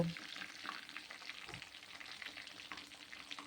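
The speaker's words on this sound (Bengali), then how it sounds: "যাতে চিকেনটা খুব ভালোভাবে ভাজা যায়" Chicken pieces fry in hot oil, giving a steady, dense sizzle that holds at an even level throughout, with a few faint stirring clicks and no voices.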